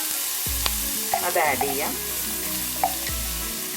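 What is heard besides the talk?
chopped garlic frying in oil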